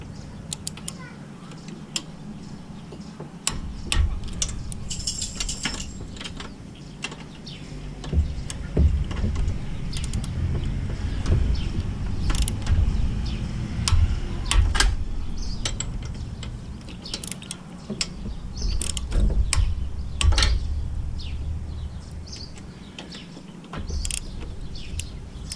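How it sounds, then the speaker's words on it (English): Torque wrench set to 192 inch-pounds tightening head bolts on a Cub Cadet SR621 engine after a blown head gasket, with repeated close ratcheting clicks and metallic creaks over a low rumbling background. "My torque wrench sent to 192 inch-pounds."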